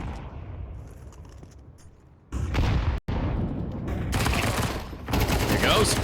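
Bursts of SMG gunfire during a Counter-Strike match on the Overpass map, dense rapid shots kicking in partway through and running loud to the end, broken by a brief dropout, with faint talk and game noise underneath.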